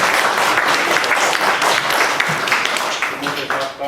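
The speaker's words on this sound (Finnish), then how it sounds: "Raikuvia aplodia saatte." Hearty applause from a church congregation during a Sunday service, dense and close, gradually tapering in the last second with some voices mixed in.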